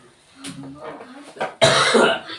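A single harsh cough bursts out after some brief talking, loud and close.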